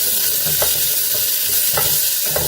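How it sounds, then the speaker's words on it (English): Vegetables stirred in a pot over moderate heat give a steady close sizzle, broken by a few soft scraping strokes of the spoon at irregular intervals, with no talking. "And I'm going to stir."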